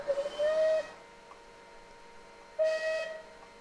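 Steam whistle of a Bulleid Light Pacific 4-6-2 locomotive in Train Simulator Classic, two sustained clear whistle blasts separated by a quiet gap, each starting and stopping abruptly.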